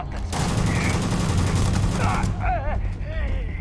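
Sustained enemy gunfire in the Starfield video game, a dense, loud, continuous burst of shots that thins out near the end, with a few electronic chirps and a voice talking.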